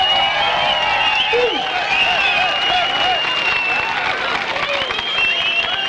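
Audience applause at an Irigy Hónaljmirigy comedy show: steady, dense clapping from a crowd that fills the whole stretch at an even level, with some voices mixed in.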